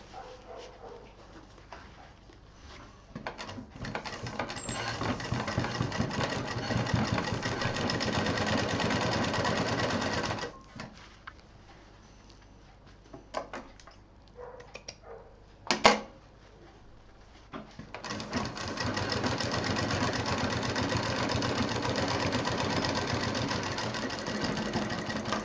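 A double-needle sewing machine stitches lace onto fabric for a sling bag, running in long steady buzzing bursts separated by a pause with brief clicks and handling noises.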